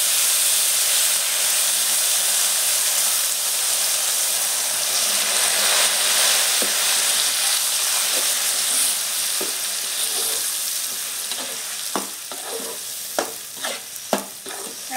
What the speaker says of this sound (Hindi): प्याज के कनी हम ललहन कऽ के भूज लेबै।